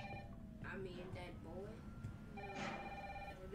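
A phone rings in the video game Resident Evil 3 Remake, a repeating electronic ring in short bursts, fairly quiet beneath a voice talking over it.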